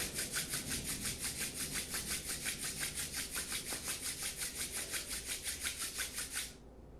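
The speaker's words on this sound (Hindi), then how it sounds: "हथेलियों को आपस में रगड़ें।" Palms rubbed briskly together during a yoga session, a steady rhythmic swishing of about three strokes per second, close and loud, continuing for over six seconds and then stopping abruptly.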